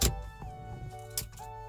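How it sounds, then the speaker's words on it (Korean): A Chevrolet Captiva car being started with a key: a brief click and crank near the start, then a steady idle hum with a few short mechanical clicks, heard alone and up close. "키로 돼 있어가지고 시동 한번 걸어볼게요"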